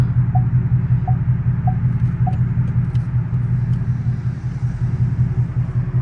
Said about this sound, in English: roll the window down a little bit, so y'all can hear that straight pipe